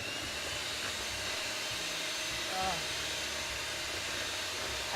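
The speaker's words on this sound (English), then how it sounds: "And I'm going to start the mixer," An electric mixer whirs steadily while beating about six eggs with lemon juice in a home kitchen, a continuous broadband drone holding at even loudness throughout.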